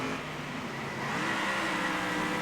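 Race car in the Circuit Superstars racing video game accelerating on track, a continuous, loud engine whine with steady rising tone, alone without talk.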